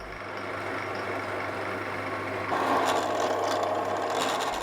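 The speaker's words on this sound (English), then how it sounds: "go to the drill, drill out a hole for the test tube" A drill bores a hole into a wooden block while a vase is being made, giving a steady machine whine that grows louder and coarser partway through as the bit cuts in, close and continuous with no talk.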